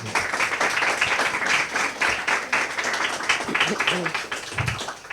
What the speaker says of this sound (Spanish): Un aplauso para la ministra Orellana.